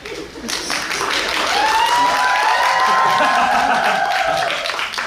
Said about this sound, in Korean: 박수 주셔서 감사합니다.